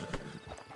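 Horse hooves clip-clop steadily in a Red Dead Online scene, a soft, moderately close run of hoofbeats with no talking.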